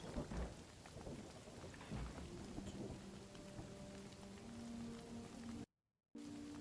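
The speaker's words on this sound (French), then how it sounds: "Ah, il pleut." Rain and rumbling thunder in the video game Hytale, a continuous steady downpour with low thunder rolls, heard alone before a brief dropout near the end.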